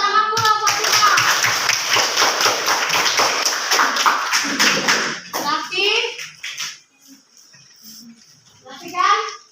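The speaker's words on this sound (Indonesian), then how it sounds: "Tepuk tangan pula buat kita." A school class of children claps hands together for several seconds, a rapid, rhythmic burst of close claps mixed with kids' voices, then fading into scattered talk and a few quieter taps.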